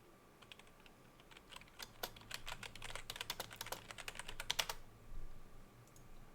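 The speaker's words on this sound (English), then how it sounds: "anytime I'm typing, my mic is picking that up, and so it can be heard on stream" Typing on a computer keyboard picked up by a streaming microphone: a quick, irregular burst of sharp key clicks, fairly faint and close, ending after about five seconds into quiet.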